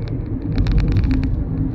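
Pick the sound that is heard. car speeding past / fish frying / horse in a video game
car speeding past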